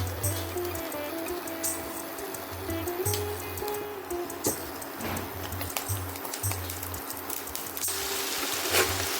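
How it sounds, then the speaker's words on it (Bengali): Boiled jackfruit and potato pieces fry in a little oil with salt and turmeric, giving a continuous soft crackle and spatter with sharp clicks of a utensil against the pan throughout. "এইবার এগুলোকে তেলের মধ্যে একটু অল্প করে ভেজে নেব নুন হলুদ দিয়ে।"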